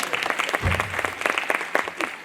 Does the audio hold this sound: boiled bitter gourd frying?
no